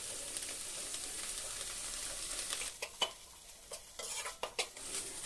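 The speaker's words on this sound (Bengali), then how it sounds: "চিংড়ি মাছের ঘিলুটাকে আমার নেড়ে চেড়ে ভেজে নেওয়া হয়েছে" Prawn head brains fry in a pan, making a steady soft sizzle, while a spoon or spatula scrapes and clinks against the metal several times in the second half as they are stirred.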